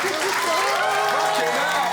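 Applause from a group of people in a restaurant kitchen, a steady dense patter of clapping under raised voices.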